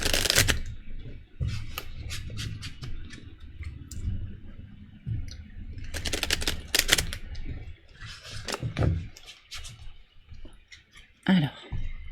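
Oracle cards are shuffled by hand at close range, giving bursts of soft riffling and clicking flutters separated by brief quiet gaps, with faint background noise.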